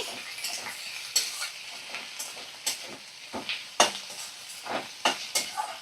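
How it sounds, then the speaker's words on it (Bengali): A spoon scrapes and clinks through fish-head curry with cumin paste in a pan over a low flame, close up. The strokes come irregularly under a soft, steady sizzle, with no talking. "তো ভালো করে দেখো আমি নাড়াচাড়া করে নিচ্ছি"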